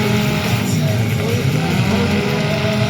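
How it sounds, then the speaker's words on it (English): Unmuffled demolition derby car and truck engines rev loudly and continuously at a compact car and truck derby in Lewiston, Idaho, a dense, rumbling roar with surging throttle that fills the whole stretch. "Probably can't hear me over the revving."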